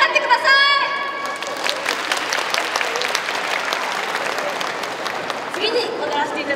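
A crowd at a high school dance club performance breaks into sustained, fairly loud clapping, with a voice heard briefly at the start and again near the end.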